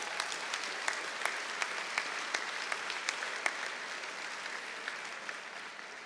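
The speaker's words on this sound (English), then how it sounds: "So let's give them a round of applause as well." Steady applause from a graduation ceremony audience fills a large hall, continuous dense clapping with a few sharper claps standing out, moderately distant and sustained throughout without speech over it.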